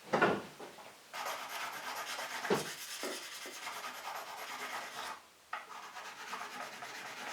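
Close, continuous rubbing and rasping of a fret polisher worked along guitar frets on a handmade guitar, steady strokes with brief pauses near one, two and five seconds.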